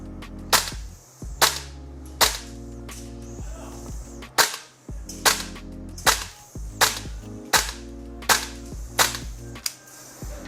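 A 416 A5-style gas blowback airsoft rifle fired with a Tokyo Marui magazine, about a dozen sharp, loud single shots with a clattering bolt cycle, spaced irregularly under a steady hiss.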